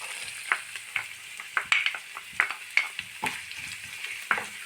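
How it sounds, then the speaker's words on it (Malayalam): Onion, garlic and curry leaves frying in a pan, with a bright continuous sizzle and a series of regular clinking strokes from a spoon stirring, close and fairly loud with no voices. "നമ്മുടെ സവാളയും അതുപോലെ വെളുത്തുള്ളിയും വേപ്പിലയും ഒക്കെ നന്നായിട്ട് ഫ്രൈ ആയി"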